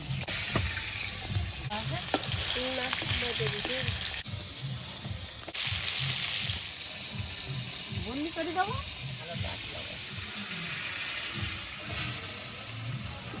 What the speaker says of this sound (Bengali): মাছগুলো ভাজা হয়েছে তুলে নিচ্ছি